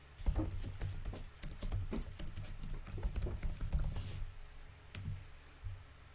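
Fingers type an email address on a computer keyboard, a close run of quick, uneven key clicks with brief pauses, ending in a single tap.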